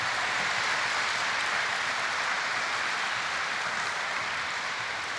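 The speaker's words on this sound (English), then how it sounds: "give me a quick round of applause for Dom and all the people that sponsor his" An audience at a community event gives sustained, dense applause, a steady rain-like wash of clapping that holds evenly loud throughout.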